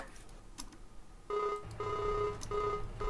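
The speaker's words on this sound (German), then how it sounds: "Warte mal kurz, muss mal kurz telefonieren." A telephone ringing for an outgoing call on a farm, repeated ring-back tones in three regular bursts after a short stretch of quieter noise with a few clicks.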